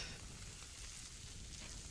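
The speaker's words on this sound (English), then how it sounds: "It's sizzling." Meat sizzles in a video game trailer as a steady, dense hiss of frying that runs continuously and evenly throughout, with no talking over it.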